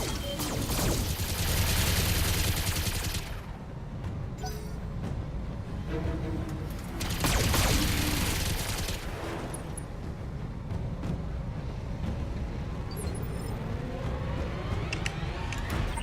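Mech weapons firing in the BattleTech video game, with two heavy bursts of booming, crackling fire a few seconds apart, then scattered lighter impacts and rumble fading out.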